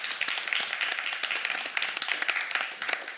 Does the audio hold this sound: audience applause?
yes